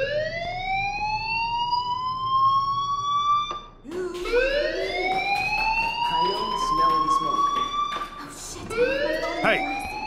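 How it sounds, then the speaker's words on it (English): A school fire alarm in Life is Strange Remastered blares as a rising, wailing electronic tone that repeats in long sweeps. It is loud and close, breaks off briefly and then starts again. "Hey, do you hear that fire alarm?"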